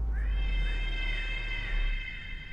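A cat meows in a drawn-out, wavering call that fills most of the moment, heard close and alone over a low background rumble.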